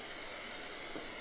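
Fake tan aerosol can sprays onto a leg from about 30 centimetres away, a steady, faint airy hiss lasting throughout with no gaps or talk.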